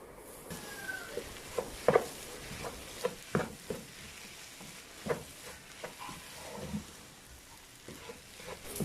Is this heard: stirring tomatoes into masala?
yes